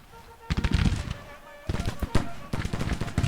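Musket and artillery fire from the 1st Tennessee in a Civil War battle at Fairfax in Grand Tactician: crackling volleys of many shots in several rippling bursts, with a voice speaking faintly underneath.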